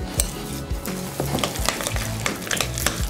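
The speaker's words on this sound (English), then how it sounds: "I'm just going to give that a good mix." Soft butter being worked with lime rind, ginger, sliced chilies, coriander, salt and pepper in a bowl, with close, steady scraping and clinking of a utensil against the bowl.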